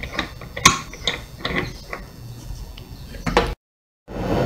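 Metal tool clicks and ratchets against a nut on a carrot juice extractor during disassembly, a few sharp mechanical ticks and scrapes close by, ending in a brief dropout.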